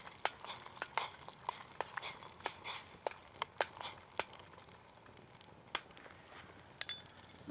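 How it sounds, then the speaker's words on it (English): A spoon clinks and scrapes repeatedly against a pot while bouillon with potato granules and vegetables is stirred on a survival prep stove, sharp irregular taps over a faint bubbling background. "Add a bit of a stir."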